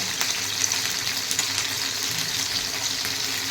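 Masala-stuffed green chillies fry in a pan with a steady, dense sizzle and crackle, close and constant with small popping spikes throughout.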